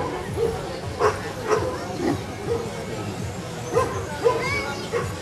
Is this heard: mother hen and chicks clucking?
no